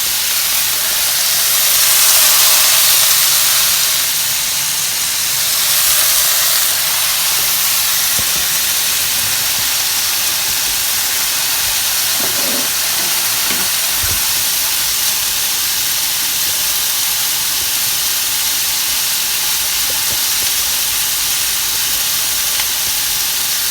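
Chicken searing in a pot for chicken noodle soup, giving a loud, steady, close hiss and sizzle that fills the whole stretch with only faint knocks underneath.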